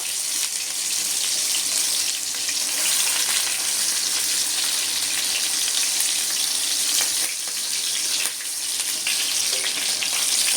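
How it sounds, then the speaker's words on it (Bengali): Steady, loud sizzling of chitol fish dumplings frying in hot mustard oil, a dense crackling hiss that continues without pause throughout. "এটা প্যানে এখন একটু সর্ষের তেল দিয়ে নিলাম ভেজে ওঠানোর জন্য"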